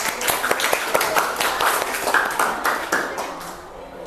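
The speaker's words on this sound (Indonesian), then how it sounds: "tepuk tangan untuk kita semua" A small junior high science class claps together in a classroom, a short burst of fairly close, uneven hand claps that thins out toward the end.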